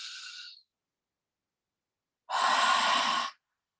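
Deep breathing during a yoga session: a short exhale trailing off, a pause of silence, then one long, full breath about a second long, close and alone.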